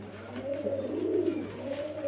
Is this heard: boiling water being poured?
no